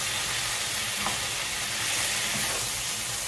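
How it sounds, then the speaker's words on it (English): Tomatoes and curry sizzling in a frying pan while being stirred, a steady bright hiss of frying with faint scraping of the spoon, close and continuous, no talk. "Just stir it all round"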